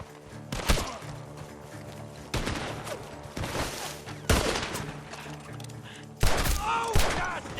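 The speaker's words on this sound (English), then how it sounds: "The gunshots are coming from that barn!" Several loud bursts of gunfire ring out at intervals, sharp cracks with rumbling echoes over a busy, noisy background, coming from a barn in the video game Red Dead Redemption 2.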